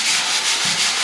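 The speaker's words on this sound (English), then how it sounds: "So use electric sander" An electric sander grinds steadily across previously painted apartment walls, a loud continuous rubbing whir close by with no voices.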